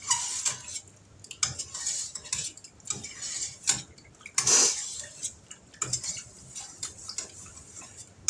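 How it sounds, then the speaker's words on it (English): A spoon stirs sugar into cherries in a pan for cherry cobbler, clinking and scraping against the metal in quick irregular taps, close and fairly loud, with no talking. "I'm going to stir it till that sugar gets dissolved"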